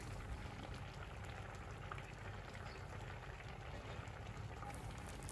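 Kerala-style fish curry (meen mulakittathu) with cooked fish pieces, green chillies and curry leaves simmers in a pot, giving a faint, steady bubbling with no one talking.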